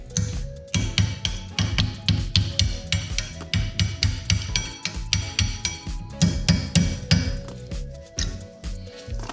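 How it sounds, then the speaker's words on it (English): Repeated sharp metallic hammer blows drive a brake pad pin out of the rear caliper on a Mercedes C-Class W203, struck in quick, steady bursts with brief pauses, close and loud, with no talk. "I'm going to stick in here, and I'm going to hit it out with a hammer."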